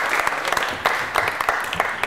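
A small audience at a student quiz show claps for a contestant, a brief burst of dense applause that stays steady and fairly close.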